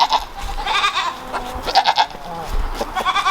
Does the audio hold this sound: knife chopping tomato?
no